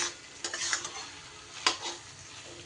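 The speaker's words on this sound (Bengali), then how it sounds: "আর একটু ভালো করে আমি কষিয়ে নেব" Pointed gourd sautéing with spices in a pan, a soft low sizzle broken by a few sharp spatula scrapes and stirs, the sharpest strokes near the start and in the middle, with no talking.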